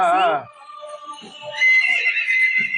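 A horse neighs loudly at the start of a film fight scene, a short wavering whinny followed by quieter sounds under a background score.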